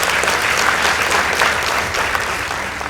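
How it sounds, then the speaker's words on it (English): A crowd at a school competition results announcement claps loudly and continuously, a dense wash of applause that fades slightly toward the end. "Please give them a round of applause."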